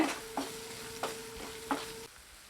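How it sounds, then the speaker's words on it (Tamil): Spices including chili powder sizzle steadily in a pan while a utensil scrapes and stirs in a few regular strokes, with a faint steady hum underneath. "இதை நல்லா வதக்கி விட்டுக்கலாங்க."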